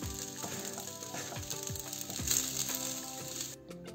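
Rice with chicken and vegetables frying in a pan, a steady sizzle with repeated scraping and stirring strokes, close and moderately quiet, no voices.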